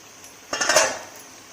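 A lid set down on a pot of kadhi cooking on the stove, one short metallic clink and rattle, close and fairly loud, with nothing else around it.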